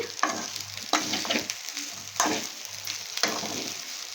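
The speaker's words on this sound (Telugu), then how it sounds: "ఇలా ఒక రెండు నిమిషాలు బాగా ఫ్రై చేయాలి" Gobi fried rice with green chillies stir-fried in a pan, a steady close sizzle broken by several scraping strokes of a spatula at a regular pace, with no voices.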